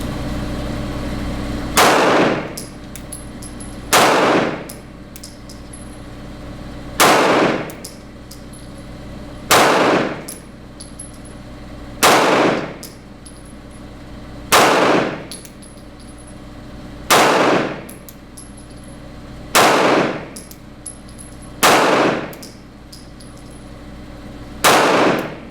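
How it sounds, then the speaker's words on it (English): A Smith & Wesson M&P 2.0 9mm pistol firing 115 grain Remington factory ammunition outdoors, ten loud sharp shots spaced evenly a couple of seconds apart, each with a short ringing tail. "I'm shooting some 115 grain Remington factory ammunition."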